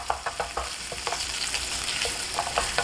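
Minced pork stir-frying in a pan with ginger for yuni jjajang noodles, a steady close sizzle broken by light scraping and stirring taps, with no talk.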